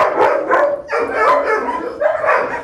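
A leashed dog barks during a training session, giving three loud, close barks in quick succession, each short and sharp with a brief pause between.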